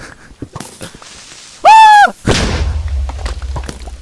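A Minecraft creeper blows up right beside the player: a short rising game tone, then a single loud booming blast with a low rumbling tail that fades out.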